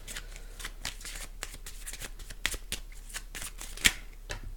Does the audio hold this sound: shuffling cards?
yes